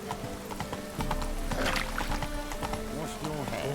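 Horse hooves pound in a quick, steady gallop in The Witcher 3 video game, close and clear, with a voice talking over the hoofbeats.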